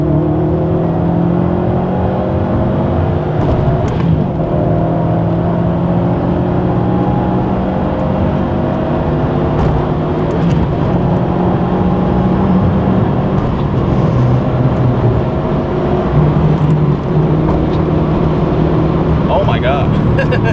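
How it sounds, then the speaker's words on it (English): A Subaru WRX STI pulling hard at full throttle in sport sharp mode on a 30 roll, its engine droning steadily with rising tones through gear changes. A voice talks over it. "I ran out all the gears, not six obviously, but I got into six on a turn, full throttle, sport sharp."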